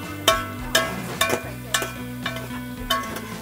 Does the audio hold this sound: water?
no